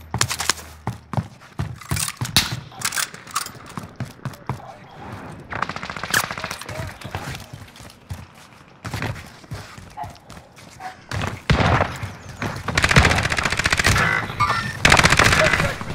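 Rapid gunfire crackles through a first-person shooter match, with repeated sharp shotgun blasts and bursts of automatic fire in quick, irregular clusters, growing denser and louder toward the end.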